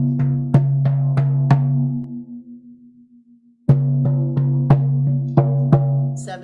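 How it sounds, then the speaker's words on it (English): A shamanic drum plays a call-back pattern of spaced, resonant beats in short groups, with a pause where the ringing fades out before the strikes resume, loud and alone. "When it's time to come back, the drum beat will change and it'll sound like this."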